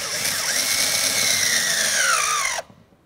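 Power tool with a 7mm socket driving mounting screws into the door lock actuator and latch of a 2001–2005 Ford Explorer Sport Trac: a steady, close whine whose pitch sinks as the screw seats, then cuts off sharply.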